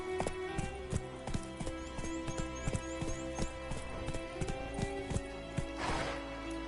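Horse Roach galloping in The Witcher 3, steady rhythmic clip-clop hoofbeats close up, with a brief whoosh of movement near the end.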